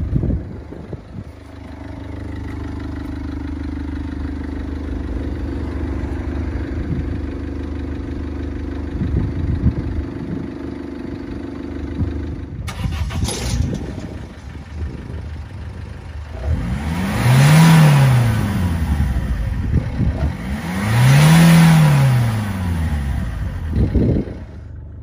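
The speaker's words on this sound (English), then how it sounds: "And it sounds like a diesel and pretty much doesn't smoke at all." A diesel car engine, run on a fuel additive, idles steadily, then starts or catches abruptly and is revved twice in rising and falling swells, loud and close with no talk.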